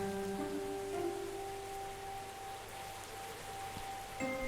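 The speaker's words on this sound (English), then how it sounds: "All alone in the rain." Steady rain falls in the Cthulhu adventure game Gibbous, an even, continuous hiss of raindrops with faint ambient tones underneath and no voices.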